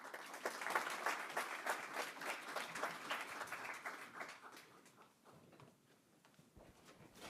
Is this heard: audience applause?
yes